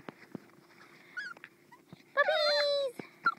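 Puppies whimpering and yipping up close, with short high whines scattered early and a louder sustained whimpering yelp in the middle, then a few more brief yips.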